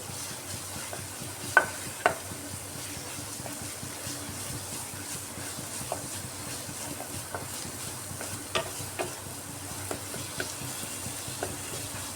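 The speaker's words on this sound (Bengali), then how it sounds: "কাশ্মীরি লাল লঙ্কার গুঁড়াটা দিয়ে আবারও আমি ভালো করে কষিয়ে নিচ্ছি মশলাটাকে" Spice paste with Kashmiri red chilli powder sautéing in a pan for a fish-roe and potato curry, a soft, even sizzle under a low hum, with occasional light spatula taps and scrapes.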